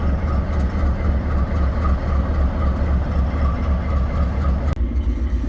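Freight train moving off slowly on a New Zealand rail line, a loud continuous low rumble of engine and rolling wagons with steady clattering close by.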